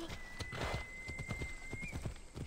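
Horse hooves clip-clop at a steady trot in Assassin's Creed Odyssey, rhythmic thuds close and clear, with a brief neigh and faint background game tones.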